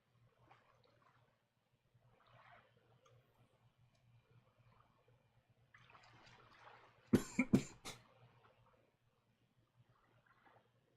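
A person gives a few sharp, close coughs in a quiet room, short bursts clustered together between faint background murmurs.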